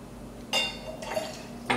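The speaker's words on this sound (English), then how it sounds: "And 1 part of your simple syrup in this fancy glass that we have" Simple syrup poured into a fancy cocktail glass while mixing a Tom Collins, with a few short liquid splashes and glassy clinks over a quiet kitchen hum.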